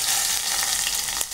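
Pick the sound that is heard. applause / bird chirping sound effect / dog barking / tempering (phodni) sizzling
tempering (phodni) sizzling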